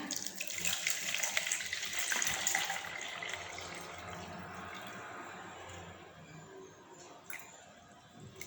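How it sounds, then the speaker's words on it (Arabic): Water splashes and gurgles steadily as it is poured for a batch of homemade laundry detergent, strongest at first and then thinning to a softer trickle. "باهي صبوا الماء نتاعنا."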